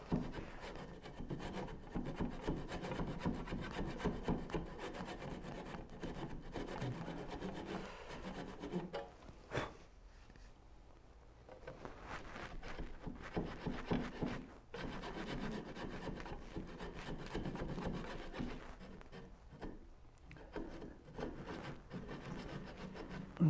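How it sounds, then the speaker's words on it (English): Hand-sawing a wooden dovetail joint for a Moxon vise: a steady rasping back-and-forth saw stroke through wood, continuous and close, with a brief pause near the middle before the strokes resume. "Now we continue on with the saga of cut that dovetail"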